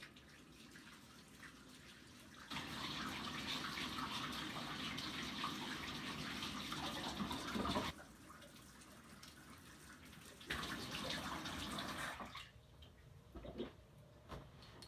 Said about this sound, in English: We'll wash that plate off as well.